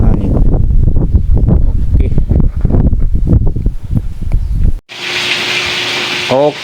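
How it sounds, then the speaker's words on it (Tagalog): Strong gusty wind from Typhoon Crising roars and buffets close to the microphone in uneven surges, then cuts to a quieter, hissing indoor scene near the end. "Ay, mahangin, sobrang hangin."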